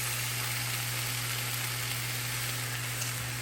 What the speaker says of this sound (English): we're just gonna cook this for like 1 to 2 minutes so that those carrots can kind of start to soften